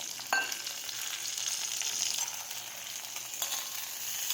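Green peas with asafoetida frying in hot oil, a steady soft hiss with a couple of light clinks from a utensil, fairly quiet and close.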